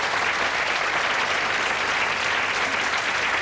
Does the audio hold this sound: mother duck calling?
no